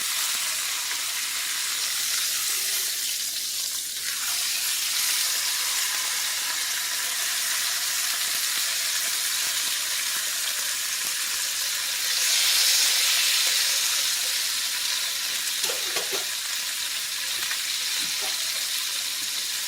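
A chuck roast browns in a hot pan, giving off a steady, continuous sizzle and hiss for the whole stretch. The sizzle swells a little partway through, and a few faint clinks come from the pan.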